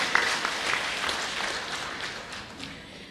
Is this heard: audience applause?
yes